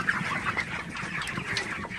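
A flock of 31-day-old broiler chickens clucks and murmurs continuously nearby at night, overlapping soft calls forming a steady barnyard chatter.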